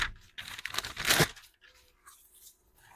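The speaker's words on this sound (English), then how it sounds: "just cut cardboard with S35VN steel" An S35VN steel pocket knife cutting through cardboard: a dense, rough tearing and crunching that swells to a loud burst about a second in, then drops off to faint scraps of sound.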